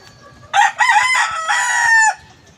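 Backyard chickens under an overcast sky: a rooster crows loudly and close for about a second and a half, with soft clucking before and after.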